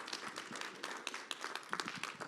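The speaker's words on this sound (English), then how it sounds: "give me a welcome round of applause for Steve Smith" Fairly faint audience applause at a data and programmatic industry summit, a dense spread of clapping from many people with no voices in between.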